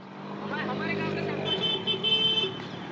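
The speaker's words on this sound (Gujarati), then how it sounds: "આ ડેપોટીની રિક્ષા આવી છે. અમારા ડેપોટીની રિક્ષા છે." An auto rickshaw pulls in at Moriya bus stand, its small engine puttering steadily up close, with a couple of high horn-like toots partway through and voices nearby.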